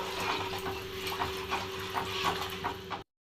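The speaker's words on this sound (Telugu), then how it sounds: "సరిపడా నీళ్ళు పోసుకోవాలి" Water is poured into a pan of curry at home, giving a quiet, steady running and splashing trickle that continues for about three seconds and then stops abruptly.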